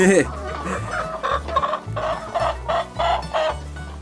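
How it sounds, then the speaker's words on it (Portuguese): Polish and bantam hens cluck in short, repeated bursts close by, with a few louder calls standing out against a low background rumble. "O Thompson, essas duas polacas, essa sura e a garnizé. São aves que me apeguei bastante"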